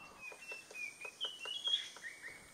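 A white-browed piculet, a tiny woodpecker, gives a series of thin, high chirping calls from close by. The calls come as a quick rhythmic run over about two seconds against a quiet outdoor background.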